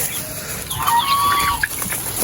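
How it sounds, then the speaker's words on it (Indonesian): Chickens cluck and squawk nearby in a coop, a short burst of clucking calls over a quiet background. "ini adalah ayam-ayam kita"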